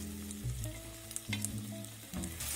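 Fish chunks fry in hot oil with a continuous close sizzle, broken by several low scraping bumps as a spatula turns the pieces, with no voices.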